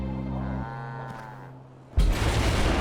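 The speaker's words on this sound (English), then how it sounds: "Right now, Mr. Cow is just hanging out with his buddies." A cow moos near a roadside heavy-rescue scene, a long tonal low call with rising harmonics lasting over a second, then a loud burst of broadband engine or equipment noise takes over.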